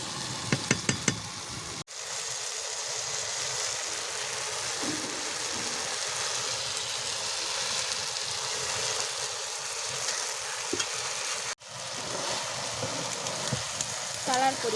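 Black brinjal, finely chopped and frying whole in a pan with small shrimp, gives a steady, loud crackling sizzle that runs almost unbroken, dropping out twice briefly, with a few knocks near the start.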